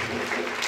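Church congregation applauding, a dense continuous wash of many hands clapping at moderate loudness, brief and unbroken.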